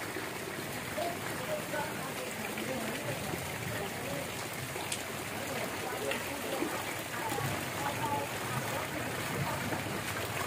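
Flood water flowing past a house in a residential housing area, a steady, dense wash of rushing and splashing water with no pauses throughout, at moderate level, with a voice talking over it.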